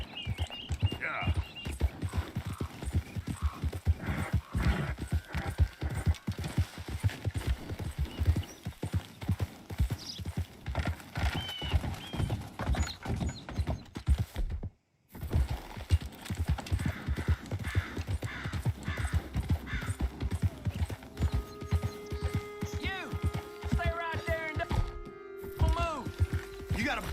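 Horse hooves clip-clop steadily in Red Dead Redemption 2, with mechanical clicks and an occasional whinny under ongoing game audio and someone talking.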